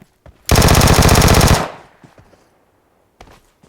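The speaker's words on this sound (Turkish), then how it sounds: "Önünde adamlar önüme Uzi ile sıkıyor" Uzi submachine gun fire in PUBG Mobile on Erangel: a loud burst of rapid automatic shots lasting about a second, followed by a few faint scattered sounds and one more brief sharp noise.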